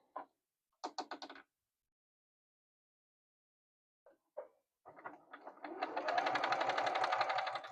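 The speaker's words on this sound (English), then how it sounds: "what we're going to do is just sew a 1/4 inch on both sides of that lines we drew on the X" A sewing machine stitches a quarter-inch seam on a quilt block, starting with a few short bursts of rapid needle clatter, then after a pause settling into a steady close, whirring run.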